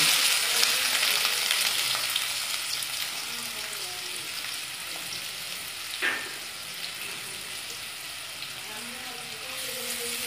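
Chopped onion frying in hot oil with a pinch of hing, a steady broadband sizzle throughout with one brief sharper spatter near the middle, no talking.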